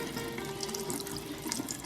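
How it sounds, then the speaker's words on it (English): Tap water running steadily over kale sprouts in a kitchen sink, a continuous close splashing stream with small spatters and no voices. "I might actually run this water over the kale just to save it."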